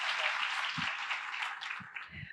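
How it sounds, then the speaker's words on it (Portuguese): Brief audience applause at a live podcast taping, a soft, fairly distant patter of clapping that fades out after about two seconds, with a few low thumps mixed in. "Palmas para essa diva, Fefa."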